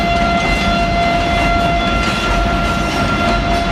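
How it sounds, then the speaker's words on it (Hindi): A passenger train crosses beneath a road bridge on the Malir Expressway project in Karachi, its steady loud rumble, wheel noise and high tonal squeal filling the whole stretch without pause. "कितना आसानी से ये रेल यहाँ से क्रॉस करके सीधा जा रहा है"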